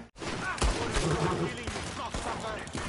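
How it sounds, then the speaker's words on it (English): Gunfire in Red Dead Redemption 2, a rapid burst of several loud, close shots crowding together over a dense game soundscape, with a voice talking through it. "I shot him by accident, but he's still alive"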